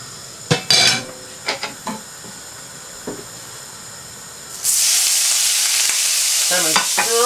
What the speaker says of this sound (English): Salmon straight in the pan. And just let it sear itself.